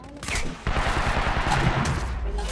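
Dense, continuous gunfire in the game Quantum Break, a loud, sustained volley of overlapping shots with a brief lull near the start, under a busy mix of game noise.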